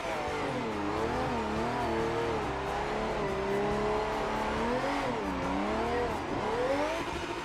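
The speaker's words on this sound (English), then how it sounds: "by varying the throttle during a donut, you get that accelerated rotation" A racing video game car spins donuts, its engine droning loudly and continuously with wavering revs as the throttle varies, while tyres squeal steadily underneath throughout.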